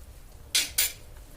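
A spoon clinks sharply twice against a bowl while cowpea vada batter with chopped onion is mixed, the two bright knocks close together against quiet kitchen background.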